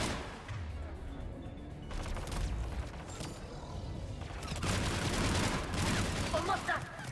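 Gunfire from a weapon in the video game Mass Effect 3 Legendary Edition, dense bursts of rapid shots and crashes running continuously and loud throughout, with a voice briefly audible underneath.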